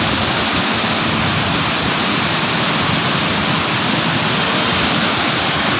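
Released river water rushes in a loud, unbroken broadband roar beneath a bridge, with no talk over it, heavy and steady from start to finish.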